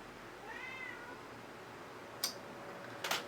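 A cat meows once, a short rising and falling cry, fairly close and quiet in a calm indoor room, followed by a few faint sharp clicks near the end.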